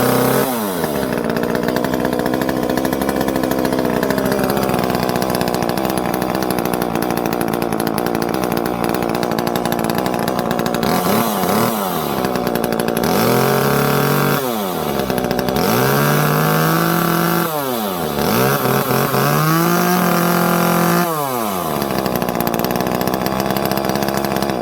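Echo CS-305 chainsaw running after a carburetor replacement, its loud engine idling and then revving up and dropping back several times in quick bursts, close and alone.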